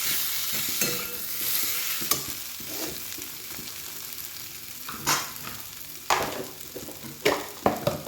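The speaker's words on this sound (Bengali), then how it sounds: "এইভাবে ভাজবো, দেখতে খুব সুন্দর দেখাচ্ছে।" Potatoes sizzle steadily in a pan for alur dom, with irregular scrapes and clacks of stirring rising over the constant frying hiss, close and moderately loud with no voices.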